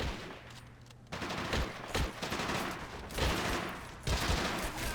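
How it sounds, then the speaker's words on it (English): Gunfight in the WWII strategy game Men of War: Assault Squad 2: dense bursts of rifle and machine-gun fire crackle continuously, with heavier shot clusters recurring roughly every second. "So yeah, little gunfight."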